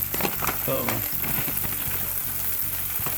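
Tacos sizzle steadily in a pan of hot oil, a dense, continuous frying crackle filling the whole stretch, with faint kitchen clatter near the start.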